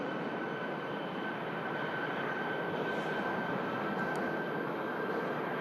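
An aircraft engine run-up at Manchester Airport makes a steady, continuous roar with a faint high whine, distant but constant throughout, with no voices.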